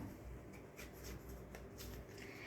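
Playing cards being handled and shuffled for a single draw, a soft, steady papery riffle with a few brighter flicks and snaps, close by and fairly quiet, with no voices.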